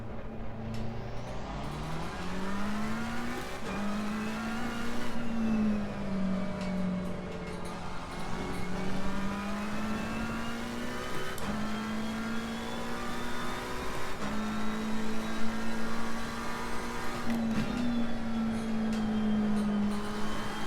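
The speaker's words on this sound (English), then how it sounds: "No rush to get out, just let these two cars go past." Race cars at Zolder in Assetto Corsa Competizione drone steadily, their engines rising and falling through gear changes as they pass. The engine note is continuous and moderately loud, with no talk over it.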